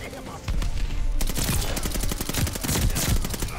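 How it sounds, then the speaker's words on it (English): Type 100 submachine gun in Call of Duty: Vanguard firing in a long, rapid, loud automatic stream after a brief quieter start, with dense shot after shot sustained to the end. "This Type 100 is the best gun in the game, bro."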